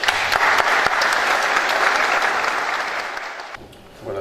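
A judicial conference audience claps warmly to welcome a speaker, a loud, dense round of applause that holds steady, then fades out over the last second.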